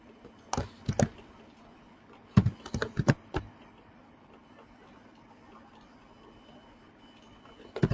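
Java code is typed on a computer keyboard in quick, close bursts of key clicks separated by quiet pauses, with no talking.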